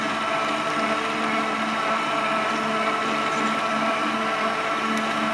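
A mixer kneads chapati dough with warm water, giving a steady, even motor whir that holds at a constant level throughout with no pauses, close and alone.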